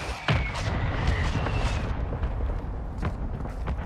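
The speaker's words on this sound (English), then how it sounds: "Our mortar strike is inbound." Mortar strike explosions in a video game land as a series of booming, rumbling blasts, with several sharp impacts over a continuous, dense roar.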